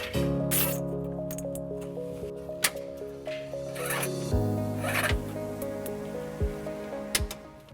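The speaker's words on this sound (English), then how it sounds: "zip tying it all the way." Zip ties being cinched while routing trailer wiring along the brake lines of a 2019 Nissan Altima: quick ratcheting zips and plastic clicks close by over a background hum, with occasional snaps, no voices.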